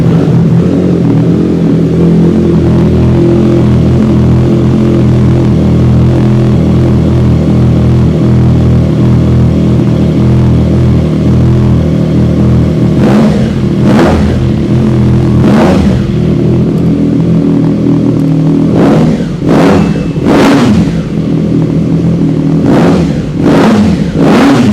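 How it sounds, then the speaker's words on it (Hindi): An inline three-cylinder superbike engine idles loud and close with a steady throbbing rumble, then several sharp throttle blips rev it up and drop back, clustered in quick bursts toward the end. "आपको सुनाते हैं इनलाइन 3 मोटर की आवाज़"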